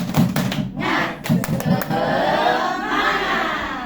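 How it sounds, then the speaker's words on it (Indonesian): School audience at a teacher training presentation doing a rhythmic spirit clap, a quick run of sharp, near, loud claps in a pattern, then a broad burst of continuous clapping and cheering. "Oke, tepuk semangat."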